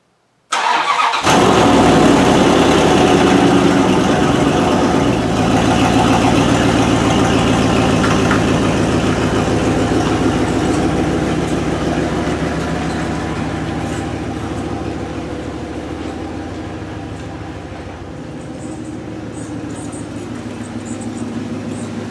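A Dodge Ram pickup's engine starts up and keeps running steadily close by, a loud continuous rumble with no talking over it.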